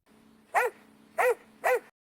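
Three sharp barks from a police dog in a LEGO stop-motion scene, evenly spaced and close, each short and bright, over a faint steady hum with no talking.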